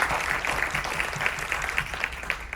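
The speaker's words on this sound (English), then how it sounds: "Audience, I'm going to ask you to applaud for each candidate after their opening statement" Fairly faint applause from the audience at a school board candidate forum, a scattered, steady patter of clapping that carries on evenly for a few seconds.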